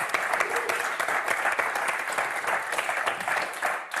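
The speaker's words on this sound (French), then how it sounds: "Donc, allez, on vous applaudit, Christophe, Cédric." A TV game show studio audience bursts into dense, continuous applause, loud and close for four seconds before easing slightly at the end.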